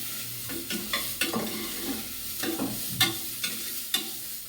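A spoon stirs a rice bath style dish in a pan, with scraping strokes at an irregular rhythm over a soft sizzle, close by.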